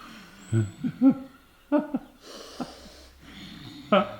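Someone breathes loudly and raspily into a microphone during a talk show, several wheezing, hooting inhales and exhales spaced irregularly over a quiet background, close and fairly prominent.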